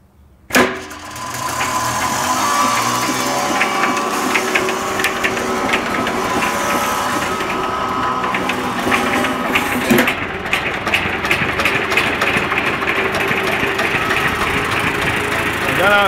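A Lister-type stationary diesel engine fires up after a sharp start and settles into a loud, steady mechanical chugging with rattling clatter, running continuously close by.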